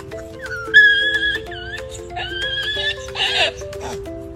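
A donkey bray sound effect played during a football fan-reaction segment. It is a loud, close, wavering series of honking, whinny-like tones that rise and fall over several seconds with no speech.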